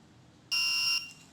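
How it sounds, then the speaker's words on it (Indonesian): A single electronic buzzer on an RFID door lock sounds for about half a second after an unregistered tag, a loud steady high-pitched tone that cuts off abruptly. "Maka buzzer akan menyala dan pintu tidak akan terbuka."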